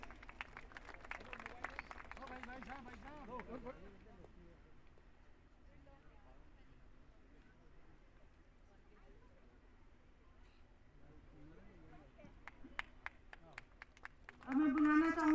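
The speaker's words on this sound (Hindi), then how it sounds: "एक बार हम दोनों की जोरदार ताली हो जाए प्लीज।" Audience applause at the General Zorawar Singh Martyrdom Day function in Jammu: a moderate burst of clapping at the start fades into a quieter hall, then a few scattered claps come near the end as an announcer speaks.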